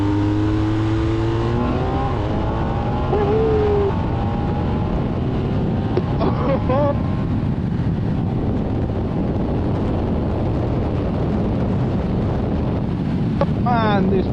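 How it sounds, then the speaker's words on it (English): A 2023 BMW R1250R SE motorcycle engine revs up under throttle while riding, its droning note rising in pitch and partly masked by steady wind rush over the microphone. "you just hit on the throttle and work that engine"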